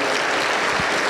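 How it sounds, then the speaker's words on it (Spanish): Applause fills a Pentecostal church service in Junín, Peru, a dense, steady wash of many hands clapping together, loud and continuous through the short moment. "Aplauso para el Señor Jesús."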